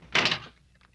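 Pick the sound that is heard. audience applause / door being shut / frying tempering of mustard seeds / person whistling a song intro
door being shut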